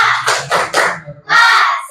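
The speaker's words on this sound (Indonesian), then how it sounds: "Tepuk semangat!" An audience in a classroom-style session claps out a rhythmic chant during an ice-breaker, several crisp clusters of claps in a patterned beat with a short pause before a final burst.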